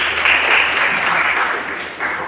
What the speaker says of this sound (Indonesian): kita beri tepuk tangan Rizky